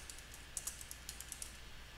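Someone types a search term on a computer keyboard: a quick, uneven run of light key clicks, fairly close but soft, with no voices.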